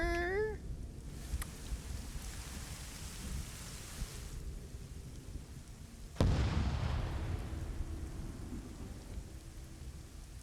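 A proton mortar firing in a Star Wars trench-defense game, with a brief rising whistle followed by a loud, booming impact that leaves a rumbling, rain-like roar beneath a steady noisy background.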